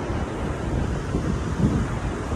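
Ocean waves wash onto a sunny beach in a steady, dense roar, with wind buffeting the microphone throughout and no voices.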